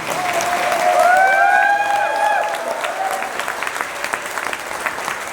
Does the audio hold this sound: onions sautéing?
no